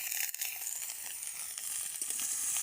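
Bottle gourd, green chillies and tomato are stirred in hot oil in a pan for a fish curry, giving a quiet, continuous sizzle with faint scraping.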